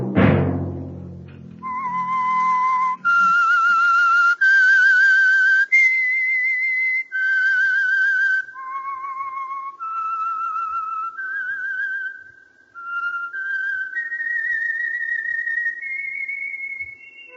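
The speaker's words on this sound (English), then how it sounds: "Let that whistle be your signal" Someone whistles a melodic tune alone, clear sustained notes stepping up and down in phrases with brief pauses between them.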